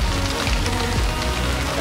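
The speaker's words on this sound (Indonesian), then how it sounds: "Dari daun-daun sudah berjatuhan air bawah" Rainwater dripping from leaves by a river under overcast skies, a steady dense patter of drops with a constant wash of water noise and no talk.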